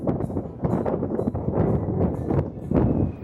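Wind buffeting a microphone on the open rear deck of the Royal Caribbean cruise ship Independence of the Seas, a steady low rumbling roar with gusty surges throughout and no talking.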